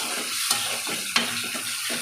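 Tomatoes and green peas frying in a pan with onions make a steady close sizzle, with two sharp clinks of a spoon against the pan standing out.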